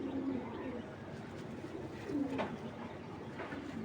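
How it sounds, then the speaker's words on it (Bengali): Giribaz pigeons coo softly in low murmuring bursts, with a few rising coos near the middle, heard close and steady against a background of pigeon-loft ambience with no talk. "এটা কিন্তু কবুতরটা খুবই সুন্দর, খুবই অসম্ভব সুন্দর।"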